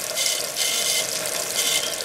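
Steady hiss of water running inside a home dishwasher, a continuous broadband wash with slight surges, close and fairly loud with no talking.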